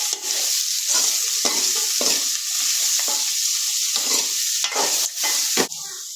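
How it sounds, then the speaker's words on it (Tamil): Grated coconut and tamarind sauté in a hot pan, with a steady loud sizzle broken by repeated scraping stirs of a spoon against the metal, close up and without speech. "இப்போ நல்லா நம்ம வந்து வதக்கிக்கலாம்."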